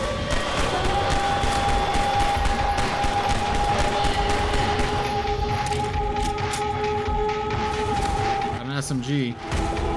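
SMG fire in the video game The Division 2, heard as rapid sustained automatic shots over a constant busy game soundscape with a steady tone. The shots run loud and dense through most of the stretch.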